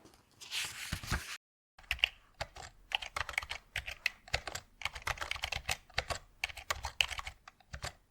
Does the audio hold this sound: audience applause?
no